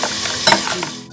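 Cauliflower being stirred and mixed with sesame seeds, salt, sugar and turmeric, a close, loud burst of scraping and rustling that swells midway through a brief moment.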